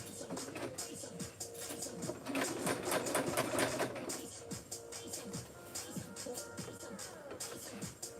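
A sewing machine runs steadily along a quarter-inch bag seam, a close continuous whirring of rapid stitching that swells slightly in the middle.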